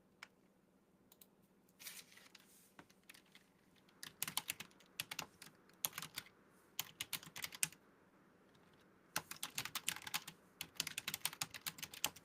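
Fingernails tap rapidly on a hard surface in bursts, sounding like quick keyboard typing, faint and close with short pauses between flurries, no talking.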